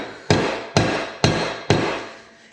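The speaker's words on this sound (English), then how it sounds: "I'm going to use this vise as an anvil to flatten it out." Four sharp, evenly spaced hammer blows flatten an annealed copper plate on a vise used as an anvil, each loud close strike ringing out and fading before the next.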